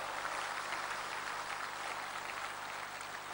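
An audience at a Hindi poetry recital claps together in a steady, dense wash of applause that holds evenly from start to end with no voices over it.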